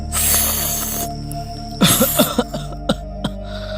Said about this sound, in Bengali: অনেকদিন ধরে গায় না তো, তাই কাশিটা বেড়ে গেছে।